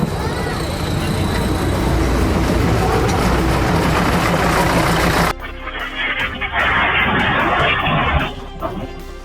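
A train moves slowly through a narrow street lined with old houses in Vietnam's capital, a loud rumbling rolling roar that abruptly cuts to a thinner, muffled rumble with clanks, while a voice talks over it.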